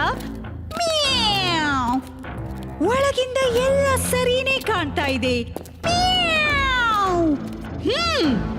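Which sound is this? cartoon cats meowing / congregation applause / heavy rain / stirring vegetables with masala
cartoon cats meowing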